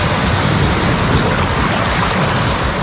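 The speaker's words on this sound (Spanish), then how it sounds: "que viene un olote grande" Ocean surf at sea heard while swimming, with a dense, steady rush of waves and churning water, loud and close throughout.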